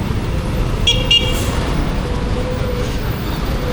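A truck passes along a city street at night, a steady broadband roadway rumble filling the scene, with two short vehicle horn toots cutting in near the start.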